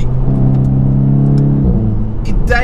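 A tuned 470 hp Volkswagen Golf GTI Clubsport engine revs loudly up close, its droning note climbing through the throttle, then dipping and rising again with a brief whir near the end.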